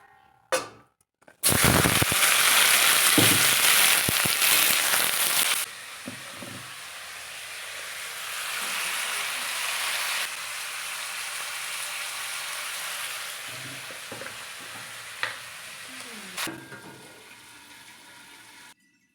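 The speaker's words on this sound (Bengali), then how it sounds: "আলু ভাজাটা হতে থাক" Potatoes fry in oil on a gas stove, a loud burst of hissing sizzle that drops to a softer steady fizz, swells again, then fades, with a few clinks and quiet gaps.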